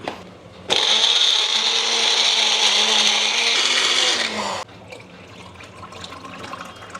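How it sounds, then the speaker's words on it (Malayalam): A countertop blender grinds health-drink ingredients with added water, starting abruptly with a loud steady whir that runs for about four seconds before cutting off, leaving quiet room noise. "അപ്പോൾ കുറച്ച് വെള്ളം കൂടി ചേർത്ത് നമുക്ക് അരച്ചെടുക്കാം."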